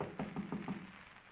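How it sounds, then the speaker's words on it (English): Four quick, evenly spaced knocks on a stage door, muffled and fairly faint, followed by quiet. "Well, we'll knock."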